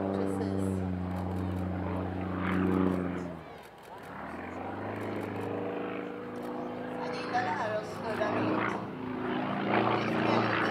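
A Sukhoi Su-31 aerobatic propeller plane flies over an airshow, its steady droning engine tone rising and falling as it maneuvers, with people talking throughout over the loud continuous engine.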